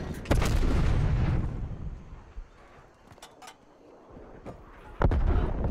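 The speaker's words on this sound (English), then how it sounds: "He's shooting from there" Gunfire in the video game Call of Duty Black Ops Cold War: heavy booming shots open and close the stretch, with sharper distant pops and crackles scattered in between.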